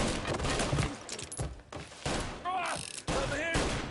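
Gunfire in the Mafia video game rings out in rapid bursts of shots with sharp cracks. Shouting voices and other game sounds are mixed in, and the firing stays fairly loud throughout.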